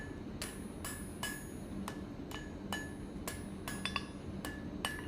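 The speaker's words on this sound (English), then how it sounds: "What I'm going to do is bend the end over the edge of the anvil." Hot steel hammered over the edge of an anvil while forging a fire poker, about a dozen sharp ringing metallic strikes at an uneven, steady pace with a low background hum.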